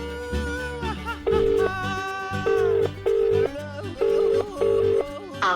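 A phone call rings out and goes unanswered: regular repeated ringback tones sound over a soft background of music and other sounds.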